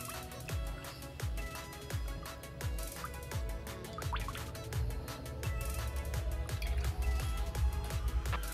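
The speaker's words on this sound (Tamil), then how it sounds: "பொரிக்கிறதுக்கு தேவையான அளவு எண்ணெய் ஊற்றிடலாம்." Frying oil poured into a pan on a lit stove while making crispy onion pakoda, giving a steady stream of dripping, liquid splashes with scattered clinks over the full length of the clip.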